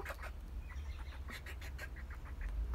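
A person imitates chickens with a quick series of clucking calls, soft and close, answering or mixed with real chicken clucks in a quiet outdoor coop.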